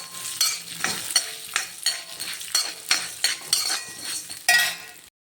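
Urad dal roasting in oil in a pan for a curry-leaf chutney powder, with a steady crackling sizzle broken by repeated scraping stirs of a utensil against the metal and a few light clinks. It is close and loud, with no talk.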